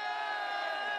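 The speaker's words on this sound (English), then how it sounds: "Tower Hamlets, a big cheer for Mayor Lutfur Rahman" A crowd at a Tower Hamlets community peace and unity rally cheers for Mayor Lutfur Rahman, a loud, sustained roar of many voices filling the whole moment.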